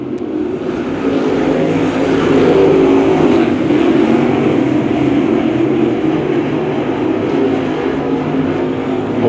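A field of Pro Late Model stock cars at Macon Speedway roars together on the green flag start, a dense, loud, steady rumble of many engines that swells slightly and holds, with no voices.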